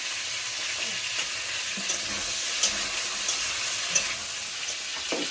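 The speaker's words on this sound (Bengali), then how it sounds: "টমেটো কুচি দিয়ে দেবো" Chopped tomato frying in a village kitchen pan for a fish curry with drumsticks and potatoes, a steady broadband sizzle with a few soft stirring clicks, close and continuous, no talking.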